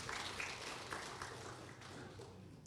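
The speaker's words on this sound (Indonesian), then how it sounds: "Saudara, tepuk tangan bersama-sama" Church congregation applauding together after a graduate's degree is announced, a steady dense wash of many hands clapping at an even level throughout, with a few sharper claps standing out and no pause.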